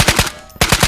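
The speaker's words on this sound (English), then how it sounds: "Does my gun sound suppressed to you?" Gunfire from a gun in the VR shooter Ghosts of Tabor, sounding muffled as if suppressed: a rapid burst of about three shots, a brief gap, then another quick burst of three, close and loud.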